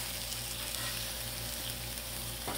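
Sausage and pepper fry on a Blackstone griddle set to medium-low, giving a close, steady, even sizzle with a brief scrape near the end and no talking.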